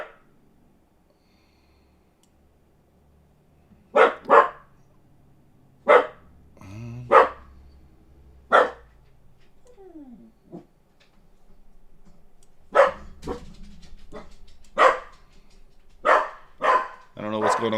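A dog barks in short, separated bursts from somewhere nearby in a home setting, the barks scattered irregularly over quiet room tone with some faint rustling between them.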